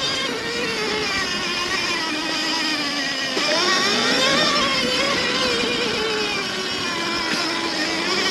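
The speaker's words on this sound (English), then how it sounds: "Notice the bike's making a bit of a weird noise today." A Sur-Ron Light Bee X electric bike with an odd mechanical noise rides along: a continuous whining drone whose pitch rises and falls with speed, loud and close, with no voices.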